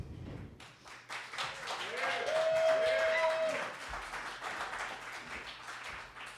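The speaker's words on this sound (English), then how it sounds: "Please give a big round of applause" An audience at a cannabis lecture applauds a speaker taking the stage, a fairly quiet, steady patter of many hands clapping that swells and then tapers off, with a brief tone and some talk mixed in.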